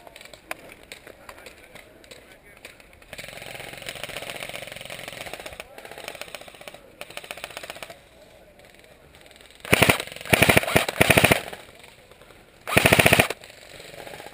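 Airsoft guns, including an ICS Grease Gun, M4 and CYMA AK74U, firing in an outdoor field skirmish: loud rapid automatic bursts in several clusters over a steady background hum, with a voice heard faintly.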